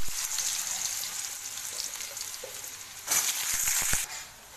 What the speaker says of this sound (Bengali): কড়াটা হয়ে গেছে গরম, দিয়ে দেবো তেজপাতা, দিয়ে দেবো আলু কুচানো।